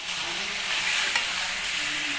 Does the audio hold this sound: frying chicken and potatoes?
yes